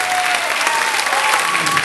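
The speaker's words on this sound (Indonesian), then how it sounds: "Jadi kita berikan tepukan untuk kaum keluarga yang datang pada malam ini memberikan sokongan." A concert audience applauds the contestants' families, a short, dense burst of loud, continuous clapping from a large crowd filling the hall.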